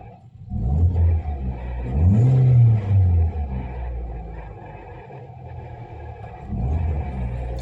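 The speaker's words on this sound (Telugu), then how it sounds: "సో స్టార్ట్ చేస్తున్న వెహికల్" A 2011 Hyundai i10 Magna with a 1.2-litre Kappa petrol engine starts on one crank, revs up with a rising whine, then settles into a steady idle before revving again near the end, close and loud.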